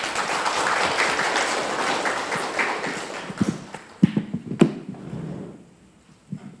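An audience applauds in a university lecture hall as a professor is welcomed up to give closing remarks. Dense clapping fills the first half, then thins to scattered claps and taps.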